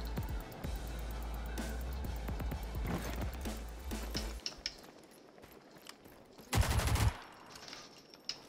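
Rapid gunfire bursts in the online shooter game Rogue Company, with repeated sharp shots and a louder volley near the end over steady in-game background noise.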